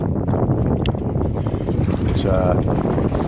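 Steady wind rushes past a sailboat beating close hauled into a headwind, a constant loud buffeting roar with water movement and someone talking over it.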